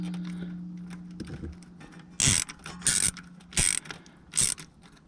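A ratchet loosens a radiator hose clamp on a 2000 Dodge Dakota 3.9 liter V-6, with four crisp, evenly spaced bursts of clicking close by after some quiet handling noise.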